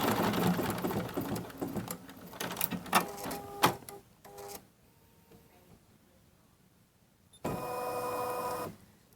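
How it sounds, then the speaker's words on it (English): An embroidery machine tacks down quilt fabric in a hoop, with irregular mechanical clatter and stitching bursts early on, a quieter stretch, then a steady loud whirring run of stitching near the end. "Now that the machine has tacked down my fabric, it is ready to quilt."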